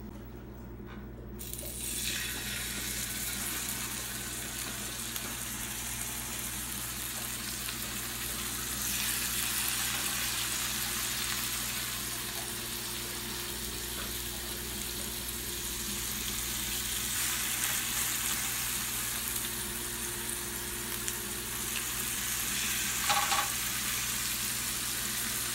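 Snapper fillets frying in a pan of browned butter: a steady, close, broad sizzle that hisses on without pause, with a faint small clink near the end and no one talking.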